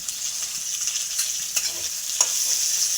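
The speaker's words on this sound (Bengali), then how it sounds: "রসুনটাকে একটু ভালো করে লাল লাল করে ভেজে নেব।" Garlic, then onion, frying in a pan in Bengali home cooking: a steady close hiss of sizzling oil with faint scraping stirs throughout, no voices.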